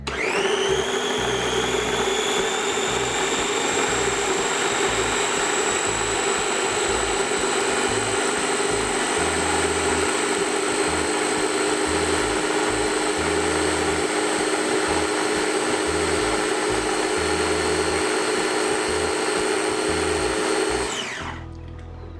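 A small electric mini food chopper blending adobo sauce whirs steadily at high speed for about twenty seconds, then spins down and stops abruptly.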